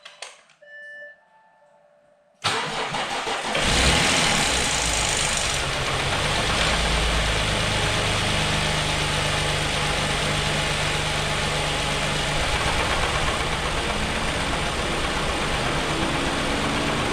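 A previously non-running Audi A6 engine cranks and catches after a few quiet beeps, then settles into a loud, steady idle with a droning fan, close by and without talk.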